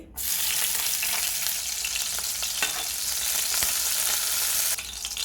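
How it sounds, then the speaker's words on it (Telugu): Slit green chillies sizzle and spit in hot oil for a fish curry, a loud, steady crackling frying sound that runs alone throughout before dropping off near the end. "ఆయిల్ వేడెక్కిందండి ఇప్పుడు పచ్చిమిర్చి వేసుకోవాలి"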